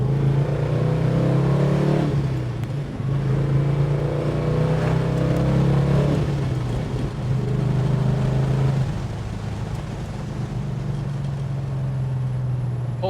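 A 1969 Dodge Charger R/T accelerating on a main road, heard from inside the car: a steady, loud low engine drone with rising and falling revs across several gear pulls, no talking.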